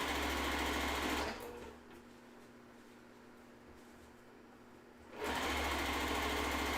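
Sewing machine stitching a quilt seam, a steady close mechanical whirr for about a second, a pause of several seconds, then the stitching resumes; no talking.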